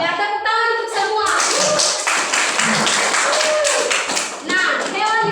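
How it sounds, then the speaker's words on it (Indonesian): A burst of children clapping together fills the middle of the clip, bracketed by an adult voice speaking before and after. "tepuk tangan untuk semua"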